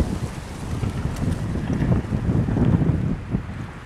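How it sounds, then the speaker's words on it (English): Wind buffets a microphone outdoors among live oaks in a new development, a steady low rumbling roar that swells and eases throughout, with no voices. "trying to keep my back to the wind as much as possible."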